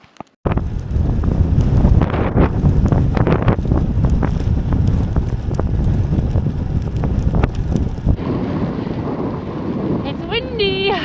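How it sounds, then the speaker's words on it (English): Strong cold wind roars across the microphone during a solo bicycle ride on quiet roads, a loud continuous buffeting rumble with gusty bursts throughout. "It's windy"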